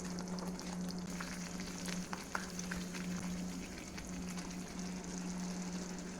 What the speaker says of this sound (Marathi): आता ह्या स्टेजला आपण हे आलं, कोथिंबीर, लसूण, अख्खा होल गरम मसाला याची सगळ्याची पेस्ट आपण इकडे टाकून घेऊया